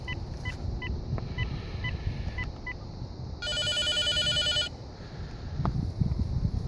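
A Nortel Millennium payphone on a regular line rings from an incoming call: a single electronic warbling ring burst of about a second over steady outdoor background hiss, with a faint earlier tone pattern.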